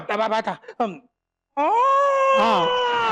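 A human voice imitates a long, drawn-out cat meow after a moment of quiet, preceded by brief speech.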